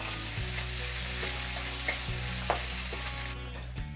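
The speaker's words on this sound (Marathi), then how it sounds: "आता हे कांदा आपण चांगलं परतून घेऊ" Large chunks of onion with green chillies sauté in a pan, giving a continuous close sizzle punctuated by a few sharp clicks and scrapes of stirring.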